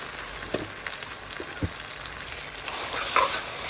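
Steady sizzling of pork stir-frying in a hot pan for fried rice, with occasional scraping and clinks of a utensil against the pan.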